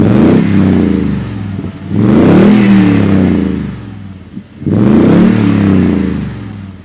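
Toyota 5.7 liter V8 with a TRD catback exhaust revving hard three times, each deep rising blip falling back to idle, close and loud.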